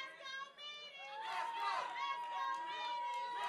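Crowd at an amateur MMA fight yelling and cheering in a dense, sustained roar with many overlapping voices, rising in intensity after the first second.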